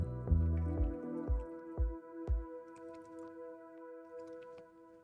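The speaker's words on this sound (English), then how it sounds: "The stream right now is just holding the cup while he drinks." A pet lapping water from a tall, narrow cup held for it: a quick run of close, wet, dripping laps with a steady tone ringing under them, slowing and fading after a couple of seconds, with no talking.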